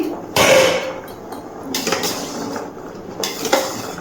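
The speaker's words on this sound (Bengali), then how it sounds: "ছয় থেকে সাত মিনিট পর ঢাকনাটা তুলে নিচ্ছি" A metal lid clanks off a cooking pot where chalta (elephant apple) has boiled over a high gas flame, a sharp clatter followed by fainter metallic knocks and scrapes, close by with no talk.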